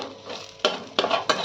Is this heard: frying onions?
yes